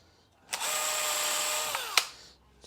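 A power drill chamfers drilled holes in a router table split fence for an Incra LS positioner, whirring in one close, steady burst of about a second and a half before spinning down with a click.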